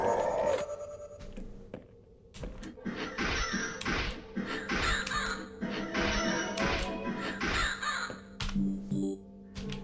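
Repeated bird caws from a crow-like creature in the House of Necrosis video game, several harsh calls spaced through the stretch amid game clatter and effects.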